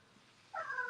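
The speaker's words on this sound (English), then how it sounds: "You hear my cat?" A pet cat lets out a single short meow at the end after near-silence, faint and somewhat distant in a quiet room.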